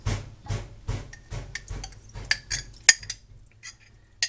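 No-bean canned chili from 2016 being scooped and scraped into a baking dish for a chili dog bake, with rhythmic metal utensil taps and clinks against can and dish, a few sharper clanks, close and without talk.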